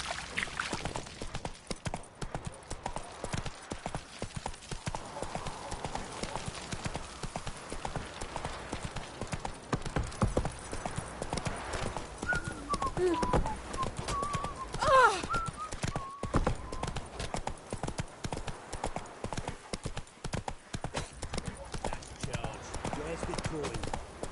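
A horse trots along in The Witcher 3, its hooves clip-clopping in a steady close rhythm throughout, with voices talking over the hoofbeats.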